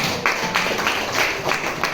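Children in a classroom clap together in a steady burst of applause for a group of classmates, the rhythmic hand claps filling the short moment without talk.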